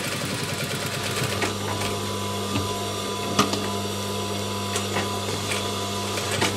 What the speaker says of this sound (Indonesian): Kemudian kita lanjut untuk menyetik.